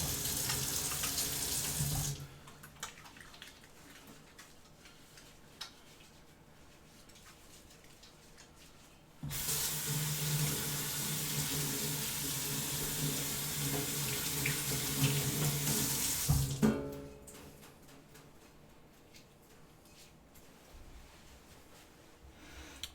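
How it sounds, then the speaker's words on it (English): Hands are washed under a running kitchen tap, with water gushing loudly from the faucet in two bursts separated by quieter handling and rubbing sounds as the tap is turned off and on again. "washing our hands"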